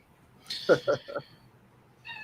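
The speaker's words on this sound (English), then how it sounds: "Do I hear meowing? Yeah, my cat is." A domestic cat meows indoors, a quick run of three or four short, close meows followed by quiet, with a faint tone near the end.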